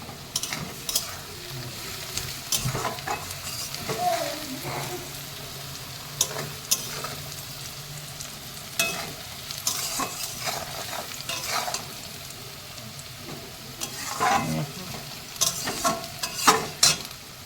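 Spring onion greens with a pinch of salt fry in a pan, a continuous close sizzle broken by repeated scraping and stirring strokes that come in uneven bursts throughout.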